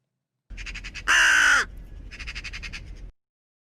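A crow calls in a quick series of harsh caws, with one longer, louder squawk early on, close and alone.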